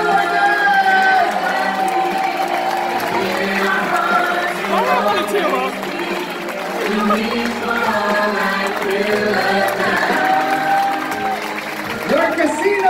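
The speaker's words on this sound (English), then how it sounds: "how about a big round of applause for the cast?" An audience on a Norwegian cruise ship applauds and cheers for the cast, sustained clapping and crowd noise mixed with an announcer's voice and music throughout.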